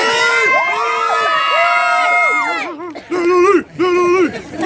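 A crowd at a youth charity walk event cheers and shouts rowdily, with overlapping whoops and children's yells rising loud and close, then breaking into repeated chanted shouts.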